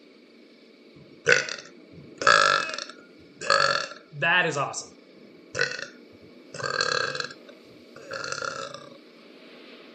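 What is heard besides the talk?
burps in The Oregon Trail video game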